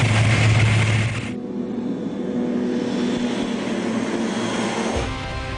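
A crop-duster airplane takes off, its engine droning steadily and loud with a rough propeller hum that shifts in pitch as it accelerates, heard alone without talk.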